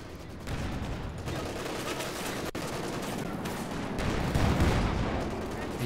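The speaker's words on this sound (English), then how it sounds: "AT gun is still going." Anti-tank gun fire in the real-time strategy game Company of Heroes 2, heard as a dense, continuous wash of battle gunfire and explosions, loud and unbroken, with a commentator's voice mixed in.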